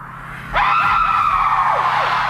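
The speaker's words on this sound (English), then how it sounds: "as long as you can make it past that opening scream" A piercing scream from the opening of a scary TV series bursts in loud and sustained, bending downward in pitch as it trails off, with no talk over it.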